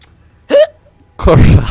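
A person imitates loud hiccups during a tabletop role-playing game session: two sharp, voiced hiccup sounds, one short and one longer, up close with no other talk.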